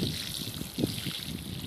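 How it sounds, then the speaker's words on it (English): Water poured from a hose or can onto newly planted elderberry bushes outdoors gives a soft, steady trickle and splash at low volume throughout. "when you first get them in, you definitely want to water them in nicely."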